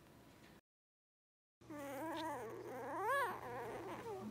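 Several puppies whimper and whine in high, wavering cries at close range, a short silent gap breaking the sound before the yelping resumes steadily with a low constant hum beneath.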